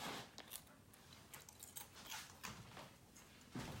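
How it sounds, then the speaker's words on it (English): Faint, close crunching and chewing of crisp toasted burger bread, irregular crackly bites repeating throughout. "hear that toasty bread?"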